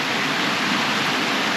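Water being pumped through a filter at a rainy bivouac: a steady, dense hiss of flowing water, even and continuous, at moderate volume with no voices.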